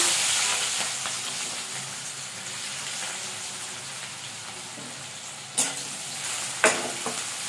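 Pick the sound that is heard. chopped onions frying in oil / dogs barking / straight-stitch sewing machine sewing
chopped onions frying in oil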